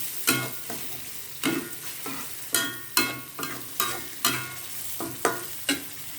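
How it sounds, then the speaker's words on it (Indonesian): Balinese spice paste sizzles in a pan while a utensil strikes and scrapes it in regular sharp knocks about every half second, each stroke standing out above the steady frying hiss, close and fairly loud, with no talk. "Ini akan ditumis terus sampai matang"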